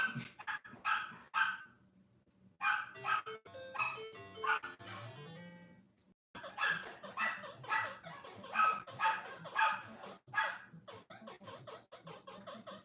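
A real dog barks and yips in the room over chiptune-style Donkey Kong arcade game music, with sharp repeated bursts in two clusters separated by a short silence, moderately close and fairly loud.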